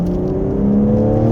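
A 2023 BMW M3 Touring G81, set to four-wheel-drive mode with DSC off and the exhaust sound on, pulls away on a winding road with a close, steady engine drone that rises slightly. No one speaks.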